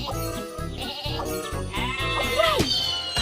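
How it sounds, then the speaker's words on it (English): Cartoon sheep bleat in the Thomas & Friends: Magical Tracks train game, wavering bleats rising over bouncy background music, close and clear. "Oh no! Sheep have wandered onto the tracks."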